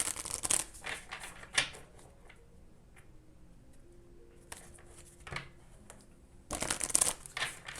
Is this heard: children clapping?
no